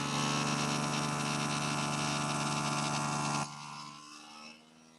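A food vacuum sealer, used to bag food for sous vide cooking, pumps the air out of a bag with a loud, steady motor drone and rushing hiss that drops off abruptly near the end and fades to a quieter whir.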